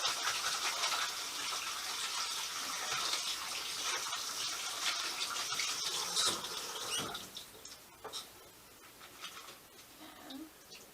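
Running tap water gushes steadily with splashing and stirring as cut potato fries are rinsed, then eases into softer trickles and clinks toward the end.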